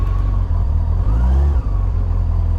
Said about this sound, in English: starting up the FJR this morning